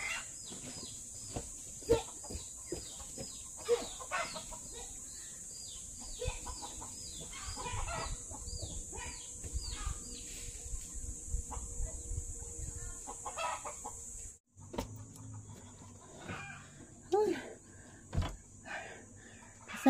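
Chickens and chicks cluck and peep repeatedly in a yard, with occasional louder calls and a rooster-like crow heard nearby. A constant high buzz runs underneath, and a brief break in the sound comes partway through.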